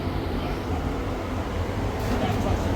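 A methanol-fuelled muscle car engine idles on a dyno in a confined space, giving a steady, loud low rumble throughout while people talk nearby.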